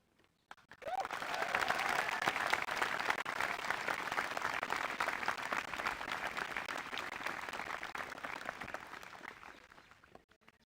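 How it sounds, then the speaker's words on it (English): A large audience at a 2023 high school graduation ceremony claps for about ten seconds, a dense sustained wave of applause that swells quickly and slowly fades out. "share one more round of applause in gratitude for our student"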